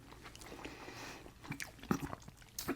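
Chewing on white bean chicken chili with sour cream, lime and crunchy tortilla, heard as soft close-up bites and moist crunches with a few sharper crackles near the end.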